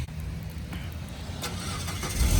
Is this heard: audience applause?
no